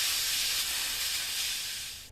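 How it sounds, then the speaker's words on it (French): An air compressor's nozzle blows a steady, loud hiss of compressed air onto a freshly soldered PL-259 connector on RG-213 coax. It runs continuously for about two seconds and then tails off at the end. "naturellement refroidir avec compresseur à l'air"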